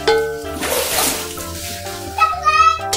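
Water splashing and sloshing while a cat is bathed indoors, brief bursts of splashes and pouring under a child's and adults' talk and laughter.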